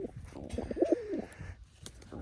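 Pigeons coo softly nearby, a short burst of low throaty coos with faint chirps in the background.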